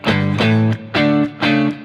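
Clean electric guitar played through an Axe-FX FM9 Plexi amp patch: four strummed chords, each ringing bright with rich harmonics before a short gap, steady and close with no voices.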